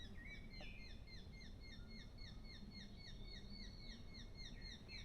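In a Korean forest, a bird gives rapid repeated high chirping calls in a continuous rhythmic series, faint and distant over soft background hiss.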